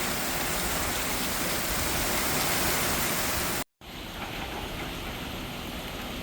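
Heavy rain during Tropical Cyclone Fina in Darwin, a dense, loud, steady hiss of downpour that cuts out briefly and then resumes slightly lighter.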